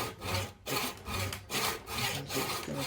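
A hand saw cuts at an angle through a wooden joint in a steady back-and-forth rhythm, about six rasping strokes close up with brief pauses between them.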